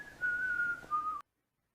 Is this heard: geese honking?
no